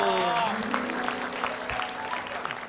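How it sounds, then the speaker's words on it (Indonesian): A studio audience at an Indonesian comedy talk show breaks into applause that fades gradually, mixed with lingering musical tones and some voices. "Oh, tepuk tangan dulu."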